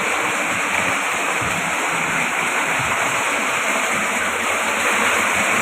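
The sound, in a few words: fresh water flowing through pipes into the sea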